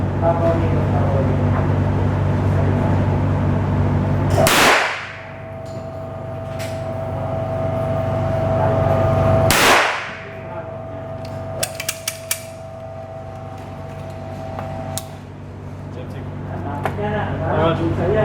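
Two loud, sharp shots from an Armscor RIA 1911 .45 ACP pistol at an indoor range in Makati, Manila, spaced about five seconds apart over steady background noise, followed by faint clicks and handling sounds.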